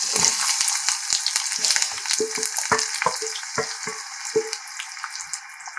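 Onions and crushed garlic fry over a high flame for a brinjal curry, a loud crackling sizzle with rhythmic spatula scrapes and taps against the pan.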